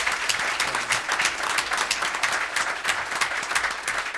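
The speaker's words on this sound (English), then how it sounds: "you can clap" Audience at a December committee meeting claps in steady, dense applause that holds at an even level throughout, with no talking over it.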